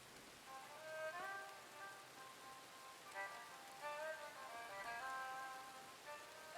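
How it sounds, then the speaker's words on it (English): Steady rain pours down in the western roleplay game RedM, an even, moderately loud hiss throughout, with soft melodic tones drifting above it. "Rain's gonna be coming down heavy."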